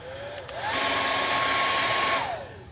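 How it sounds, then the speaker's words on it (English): A hair dryer blows on a freshly painted wooden garden flag sign, a steady close whir that rises as it switches on, holds level, then winds down at the end. "Got to blow dry this."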